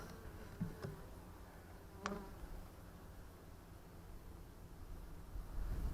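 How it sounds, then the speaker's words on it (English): Honeybees buzzing steadily around a busy nuc hive during a July inspection, a dense continuous hum with a couple of brief close fly-bys, no talking. "It's a busy hive."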